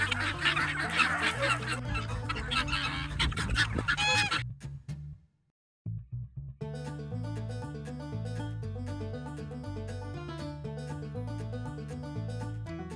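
Geese and chickens on a farm in Albania honk and cluck in a dense, loud chorus, briefly dropping to near silence midway before the busy flock noise resumes.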